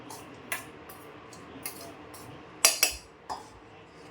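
A spoon stirs a besan mixture in a bowl for jhunka, giving sparse, irregular metallic clinks and taps against a quiet background.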